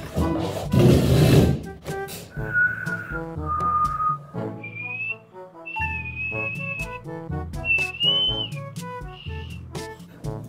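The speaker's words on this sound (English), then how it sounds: "it feels like I'm just blowing out air" Someone who has lost the ability to whistle blows out a breathy gust of air, then produces a series of thin, wavering whistle notes interrupted by airy puffs and short pauses, close up.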